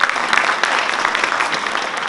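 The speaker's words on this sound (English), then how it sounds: "a huge round of applause to our technicians" An audience in a theatre at a dance debut performance applauds the technicians, a dense, steady wash of clapping hands from many people that holds without a break for the full two seconds.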